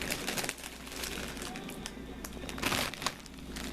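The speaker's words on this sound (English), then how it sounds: "And then I put all these in a Ziploc bag." A plastic Ziploc bag crinkles and rustles up close as small toy Cobra tanks are packed into it, a quiet scattered crackle with a few sharper crunches.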